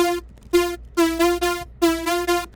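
A detuned saw wavetable synth with twelve unison voices plays a bright, buzzy riff of short and sustained notes in a syncopated rhythm, alone and fairly loud.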